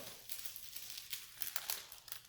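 Cellophane paper being crumpled by hand for a homemade candy cane ornament, a quiet, close series of crisp crinkling bursts in irregular rhythm, alone without speech.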